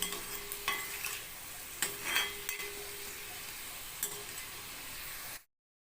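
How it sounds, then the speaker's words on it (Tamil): Potatoes sauté and fry in a pan for a Tamil-style potato fry, giving a steady, fairly soft sizzle throughout, broken by a few scraping stirs of a spoon against the pan before the sound cuts off. "நமக்கு உருளைக்கிழங்கு நல்லா வதங்கிருச்சு பாருங்கள்"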